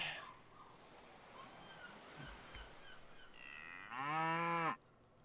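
A cow in the video game Civilization 5 gives a loud, drawn-out moo near the end, rising out of steady game background sound and stopping abruptly.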